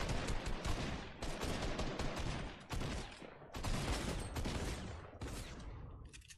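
Near-continuous rapid automatic gunfire from Fortnite, loud and close, in dense bursts broken by short pauses, with no talking.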